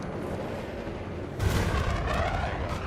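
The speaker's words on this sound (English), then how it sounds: "you can't really do that with the shock cannon, can you?" Shock cannon fire from a ship in the Elite Dangerous space combat game, a sudden loud burst that jumps in partway through and keeps rumbling and crackling over a steady hum.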